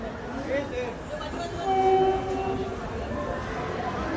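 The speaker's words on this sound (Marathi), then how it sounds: "फायनली आता ट्रेन आली आहे" A Pune-Indore Express pulls into a station, its horn sounding briefly in the distance over rumbling rails and crowd murmur on the platform, with voices nearby.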